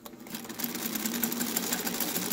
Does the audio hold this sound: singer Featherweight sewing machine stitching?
yes